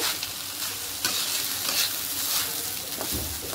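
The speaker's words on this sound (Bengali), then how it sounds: "এটার একদম 10 মিনিট লাগাইয়া সুন্দর করে ভাজা নিব" Marinated rice frying in a hot wok (kadai), with a continuous close sizzle and crackle and rhythmic stirring scrapes as the grains are turned.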